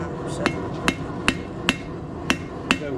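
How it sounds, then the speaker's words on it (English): A hammer strikes hot steel on an anvil while a simple drive-in hook is forged, six sharp ringing blows at a steady, unhurried pace, close and loud above a low background hum. "So when you hit it with the hammer,"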